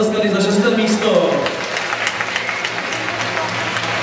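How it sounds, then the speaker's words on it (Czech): Audience at a Czech talent show awards ceremony applauds as sixth place is announced, a dense, steady burst of clapping, loudest in the first second and a half and then tapering into continued lighter applause. "Samozřejmě můžete zatleskat i za 6. místo."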